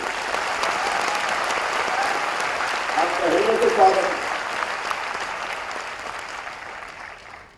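An audience applauds to welcome a guest at a public event in Madhya Pradesh. Steady crowd clapping runs under someone speaking, swells briefly near the middle, then fades away at the end.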